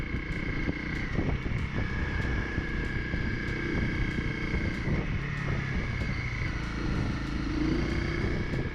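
A Honda CRF250 motorcycle's engine revs under load while riding uphill through corners, a continuous buzzing drone with rhythmic ticks, moderately loud and close with no voices.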